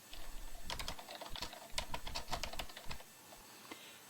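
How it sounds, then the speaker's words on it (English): Fingers typing on a computer keyboard, a quick irregular run of close, crisp key clicks that thins out into silence toward the end. "you can just begin typing your entry right here"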